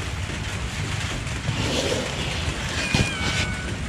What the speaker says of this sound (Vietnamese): cái mèo này người ta gọi là mèo mướp